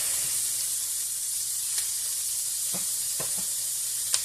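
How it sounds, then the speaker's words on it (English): Onions and garlic sizzle in a hot pan with a bright, steady hiss and occasional small pops and crackles, close and fairly loud, with no talking. "So we got our onions and garlic in."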